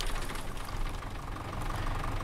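A tractor engine in a farming game idles with a steady, rough low-pitched rumble and a knocking pulse. It is close and continuous, and no one speaks.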